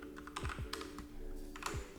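Python code being typed on a computer keyboard: quiet, irregular clusters of key clicks with short pauses between bursts, close by and without any talk.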